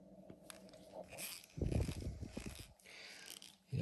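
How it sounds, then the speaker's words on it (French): A screwdriver turning a screw while building a radiator part for a KITT scale model, with irregular clicking and scraping bursts, close and fairly quiet. "Le tournevis."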